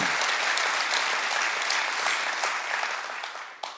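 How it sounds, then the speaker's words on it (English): Audience applause fills a comedy event room with Michael Jr., dense steady clapping from a crowd that holds throughout, then thins and tapers near the end. "y'all clapping"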